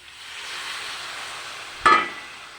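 Water poured into a hot pan of red amaranth greens and lentil dumplings gives a short, loud hiss-burst over a steady background sizzle, then quickly fades.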